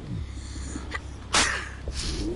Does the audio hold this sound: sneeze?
yes